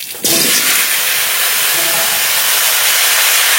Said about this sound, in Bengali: মাছ ভাজা তেলের মধ্যেই কেটে ধুয়ে রাখা কুমড়ো আলু দিয়ে দেব।